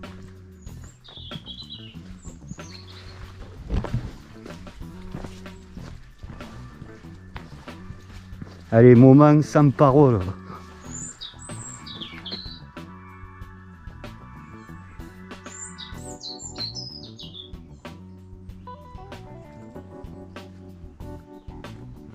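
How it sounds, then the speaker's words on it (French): Wild birds chirp faintly and intermittently in the Cévennes countryside, along with footsteps on a rocky trail and a brief spoken voice partway through. "Oh, que c'est beau le chant des oiseaux."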